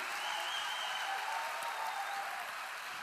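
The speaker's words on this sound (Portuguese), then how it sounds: "vamos dar esse aplauso para ele, bem forte, porque ele merece" A congregation applauds a preacher during a church service, steady dense clapping from a large crowd, even and sustained throughout with no pauses.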